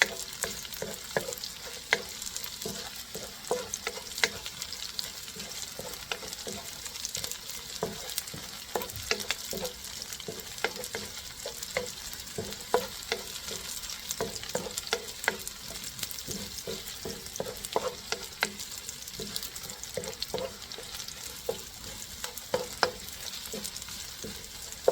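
Pancit canton ingredients fry toward golden brown in a pan, a continuous hiss of sizzling oil broken by frequent scraping and clacking of a utensil stirring at an irregular pace, with no talk.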